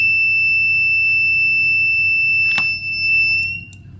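A faulty timer emits a steady, piercing continuous beep when plugged in, loud and close, with a brief click partway through.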